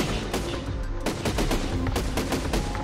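Cannon fire in the Besiege building game, a rapid string of sharp, loud blasts in quick succession that sounds like a barrage of gunfire, with no voices over it.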